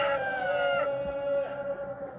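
A village rooster, feathered on the legs, lets out a single close, loud crow that trails off near the end.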